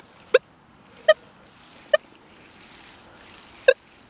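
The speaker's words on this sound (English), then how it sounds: "Every now and then I get a little chirp." A metal detector sweeping over a deep dime target gives four short, high chirps, spaced roughly a second apart, each standing out clearly over a faint steady hiss.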